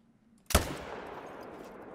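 A single loud rifle shot from a .300 magnum hunting rifle in theHunter: Call of the Wild, Medved-Taiga reserve, a sharp crack after a quiet moment followed by a long, rolling echo that fades across the open landscape.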